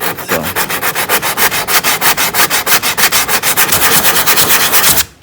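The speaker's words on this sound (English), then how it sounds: "always sand how the panel is shaped" Hand sanding a rear bumper panel on a 2014 Subaru G4: loud, close, rhythmic back-and-forth rasping strokes at a fast, even pace that stop abruptly near the end, with no talk.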